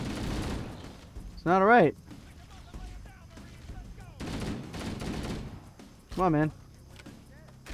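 Gunfire and grenade blasts from Halo: Combat Evolved gameplay come in short bursts and bangs under a voice, with other players talking over the fighting.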